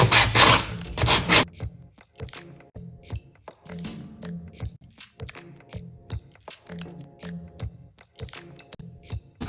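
The edges of an MDF piece are sanded by hand, with a loud rough rasping burst at the start followed by lighter, irregular rubbing and scraping strokes with small taps in between.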